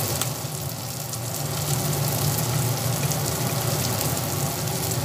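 Sizzling of turmeric, cumin powder and spices being stirred in a hot frying pan while preparing masala bread, a steady close crackle and hiss running without pause.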